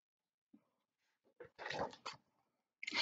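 A pet dog gives a few short, scattered vocal bursts, small yelps and barks with gaps of silence between them, near and fairly quiet.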